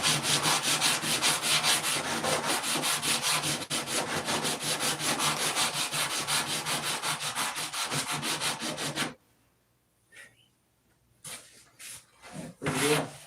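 A file rasps back and forth against the end of a wire to take off a burr, steady rhythmic strokes close by, then stopping, followed by a few scattered handling sounds.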